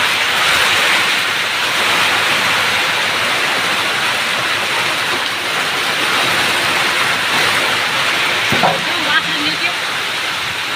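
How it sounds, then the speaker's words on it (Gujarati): Heavy rain driven by wind makes a loud, unbroken roar with no letup, and a voice cuts in briefly near the end. "જો આટલો બધો વરસાદ પડે છે મિત્રો પવન સાથે।"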